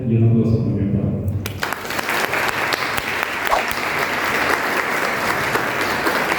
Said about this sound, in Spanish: un aplauso también para ti